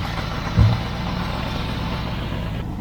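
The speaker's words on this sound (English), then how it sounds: "Is it idling on its own yet?" A 1979 Volkswagen bus engine idles with a steady low rumble, a single brief thump near the start, then an even, moderately loud drone.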